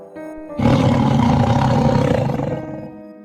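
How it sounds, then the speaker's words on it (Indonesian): A tiger roar echoing through a forest bursts in suddenly after a quiet start, a loud, rough, sustained growl that rings on and slowly fades into reverberation. "terdengar auman harimau yang sangat bergema"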